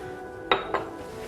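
Carrot slices go into a cooking pot for a pork meatball and pearl barley soup, two short close clinks against the metal pot, the second softer, over a quiet kitchen background.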